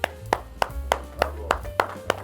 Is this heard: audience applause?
yes